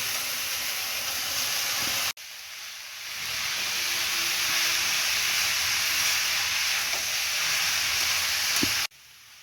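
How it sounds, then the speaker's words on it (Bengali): Cabbage going into a hot pan with fish head and turmeric, giving a loud, steady hiss and sizzle that holds for several seconds, cut off briefly at the start and end, no talking. "এবার বাঁধাকপিটা দিয়ে দেবো।"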